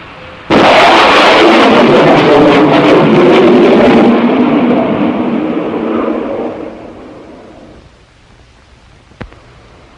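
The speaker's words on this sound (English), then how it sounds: "It is the sonic boom you hear from a supersonic airplane." A sharp, powerful sonic boom from a supersonic airplane bursts out and rolls into a long rumble that slowly fades over several seconds, ending with a faint click.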